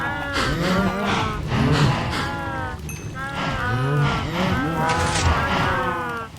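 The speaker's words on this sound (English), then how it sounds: "over here we have the moo cows." Many cows in Minecraft moo over and around each other in a steady, overlapping chorus of drawn-out lowing calls, close and loud, with no talking.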